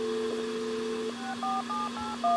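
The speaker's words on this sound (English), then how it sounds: "Let's do a redial on the phone here." A telephone redial plays a quick run of electronic dialing tones, one long steady tone followed by a rapid sequence of short beeps, loud and close with a faint hum behind.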